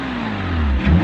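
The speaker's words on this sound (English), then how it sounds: "Give it some revs." A Porsche Cayman S with its stock, muffled exhaust revs briefly, a close engine note rising in pitch and swelling in loudness over about a second.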